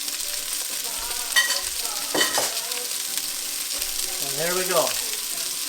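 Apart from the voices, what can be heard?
sausage frying in vegetable oil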